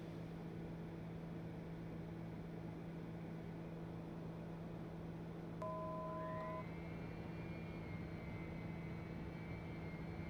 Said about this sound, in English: Bring the gear down.